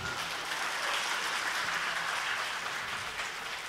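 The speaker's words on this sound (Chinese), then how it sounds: "哇，拍手！" An audience claps in a continuous, even wash of applause that stays at a steady level throughout, with no clear voices on top.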